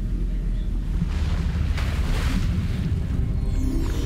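A fiery Incendio spell is cast in Hogwarts Legacy as a steady whooshing, rumbling burst of flame that flares midway and carries on for a few seconds, with no voices.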